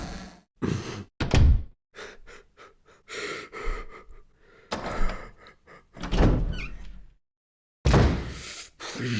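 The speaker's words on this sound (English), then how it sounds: "You will now spend exactly 1 million years watching virtual doors open." Heavy virtual doors in the Resident Evil remake creak and thunk open one after another, separated by short silences, with deep slams and breathy gasps, loud and close.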